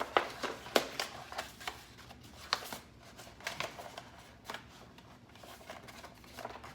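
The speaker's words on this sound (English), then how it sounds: "I'm going to use my paper trimmer" A paper trimmer cutting an infusible ink transfer sheet, heard as a string of quiet, crisp slicing and rustling strokes in an irregular rhythm, close and faint, with no talk.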